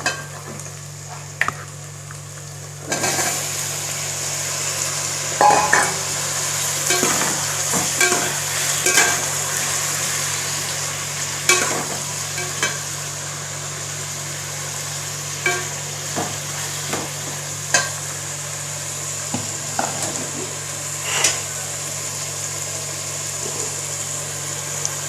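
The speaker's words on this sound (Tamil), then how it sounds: "இந்த ஸ்டேஜில் நம்ம தக்காளியை போடணும்." Tomatoes frying in a pan for tomato rice make a steady background sizzle with irregular scraping and tapping stir strokes throughout, close up, over a constant low hum, with no talk.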